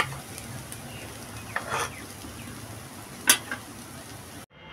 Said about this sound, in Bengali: এটা আর একটু রস টানবে বন্ধুরা, শাকটার একদম ঝুরঝুরে ভাজা হবে।